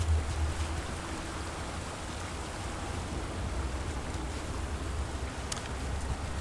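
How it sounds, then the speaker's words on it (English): Steady broadband rush of a waterfall in the fantasy video game Dragon Age: The Veilguard, a continuous even wash of falling water with no voices. "There's a waterfall."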